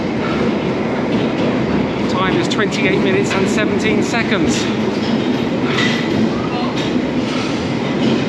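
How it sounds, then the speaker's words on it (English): London Underground train approaching the platform, a loud steady rumble with rhythmic wheel clatter and faint squeals as it draws in, while someone talks over it. "At least I'm on the platform and the train is now approaching"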